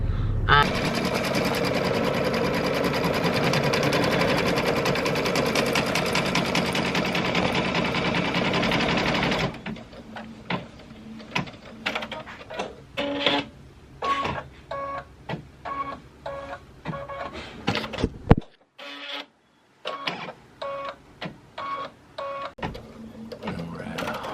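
A home embroidery machine stitching a design straight onto a wedding veil, first as a dense steady whir, then breaking into bursts of rapid stitching separated by short pauses.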